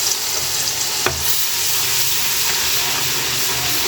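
Ginger garlic paste, two tablespoons, frying in hot oil in a pan, a steady close sizzle with crackling spatter and one sharp tick, continuous and alone without any talk.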